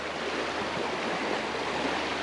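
Creek water flows steadily with a broad, continuous rushing, close and fairly loud with no pauses, on a creek crossing near a waterfall in Marin.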